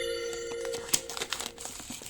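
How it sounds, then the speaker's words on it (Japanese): SOUNDPEATS Air 4 Pro wireless earbud packaging being opened, with soft crinkling and rustling of wrapping plus a few sharp crackles and taps, quiet and close with no voice over it. "というわけでこれから開封していきたいと思います。"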